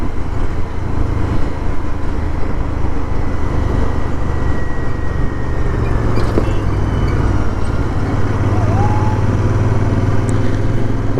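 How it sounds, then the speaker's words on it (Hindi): A group of motorcycles rolls in along the mountain road over Zojila Pass on the way from Sonmarg to Kargil. Their engines make a loud, continuous roar that fills the whole stretch, with no talking. "ये देखो आ गए अपने सारे बाइकर्स"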